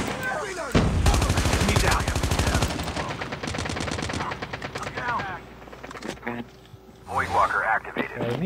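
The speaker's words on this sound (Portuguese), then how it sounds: "nem vi que ele tá atirando em mim" Rapid automatic gunfire rattles loudly in Call of Duty: Standoff, a dense burst of shots followed by scattered bursts, with someone talking over and between them.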